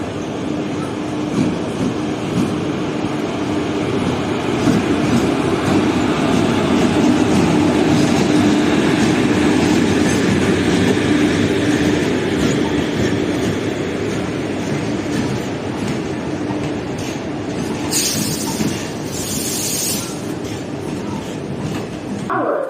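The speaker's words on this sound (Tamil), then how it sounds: "ஆப்போசிட்டில் வந்து செந்தூர் எக்ஸ்பிரஸ் வந்துட்டு இருக்கு" A Senthur Express train passes close by with a loud, steady rumble of wheels and rail cars over about twenty seconds, closing with a brief high-pitched squeal near the end.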